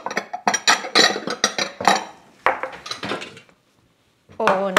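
Glass jars of mulled wine jam handled on a kitchen counter, giving a run of sharp clinks and knocks in quick succession, then a pause and a final clatter at the end, with a brief spoken word.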